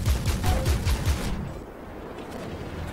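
Called-in fire support in the tank combat game Armored Warfare: a rapid rhythmic volley of heavy shots for just over a second, then a dull, rumbling fade.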